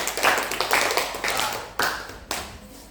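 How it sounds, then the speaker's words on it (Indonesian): Scattered applause from a small classroom audience after a group's presentation, a few people clapping loosely and close by for about three seconds, thinning out with uneven gaps between claps. "Beri aplaus untuk penampilan dari kelompok 4"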